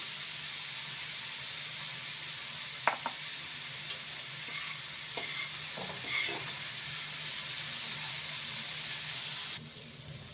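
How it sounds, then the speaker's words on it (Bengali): Onion and tomato frying in a pan for a steamed egg dish, giving a steady broadband sizzle with a few sharp clinks of stirring in the middle, close and fairly loud with no talk. "এখানে পেঁয়াজ আর টমেটোটা ভাজা হয়ে গেছে।"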